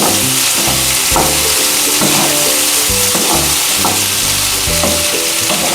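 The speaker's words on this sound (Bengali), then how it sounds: "খুব ভালো করে নাড়াচাড়া করে শশা থেকে জল বেরোবে" Diced cucumber curry sizzles loudly in a pan while being stirred, with a dense steady frying hiss and repeated scraping strokes of the spoon at an irregular rhythm, close and without talk.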